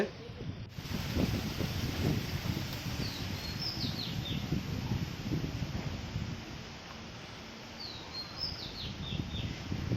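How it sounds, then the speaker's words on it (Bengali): Stormy cyclone winds from Cyclone Remal roar steadily across a coastal area in a continuous gusty rush, with faint bird chirps breaking through now and then. "এখনও বইছে ঝোড়ো হাওয়া।"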